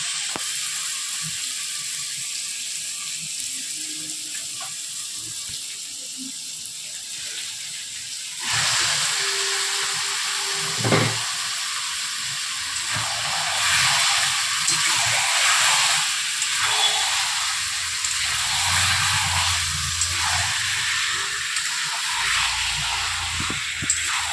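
Marinated chicken hits hot spice paste in oil and bursts into a steady sizzle that gets louder after the first few seconds, with frying hiss and spatter filling the whole stretch and no voices.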